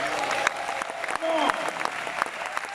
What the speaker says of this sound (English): Give your dreams a round of applause